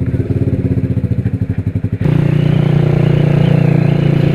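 A motorcycle engine rumbles loudly and close while being ridden. It starts with a fast, pulsing throb, then shifts abruptly midway into a smoother, steadier drone with no voices over it.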